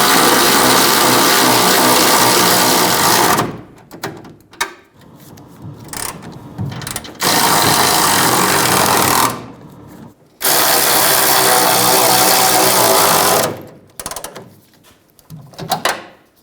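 A power ratchet drives the bracket bolts on the rear bumper of a 2005-2015 Toyota Tacoma, giving three long, loud whirring bursts separated by short clinks and quieter handling noise.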